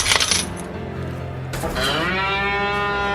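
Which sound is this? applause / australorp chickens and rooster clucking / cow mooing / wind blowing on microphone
cow mooing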